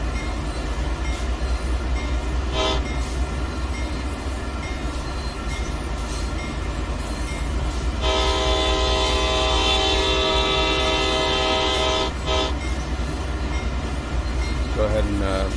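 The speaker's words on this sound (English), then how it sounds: "So gonna sound the horn." CSX locomotive horn in the Train Sim World 2 video game sounding long, long, short, long, steady chord blasts over a constant rumbling cab drone, loud and clear.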